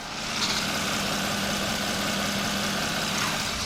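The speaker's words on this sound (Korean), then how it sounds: "영상으로 엔진 소음 한번 담아보도록 하겠습니다." A Genesis DH sedan's V6 GDI engine idles with the hood open, giving a steady, smooth, quiet hum recorded close up with no talking.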